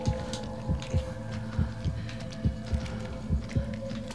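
Heartbeat in the horror video game The Evil Within: a steady, low, thudding pulse about twice a second, heard over a droning hum with no talk.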